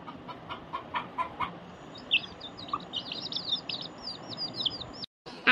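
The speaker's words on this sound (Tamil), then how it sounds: "எங்க போச்சு அந்த பொட்டை கோழி?" A hen on a backyard farm clucks and calls in short bursts amid a steady noisy outdoor background, with chirpy higher calls from fowl or birds layered over it and no talking.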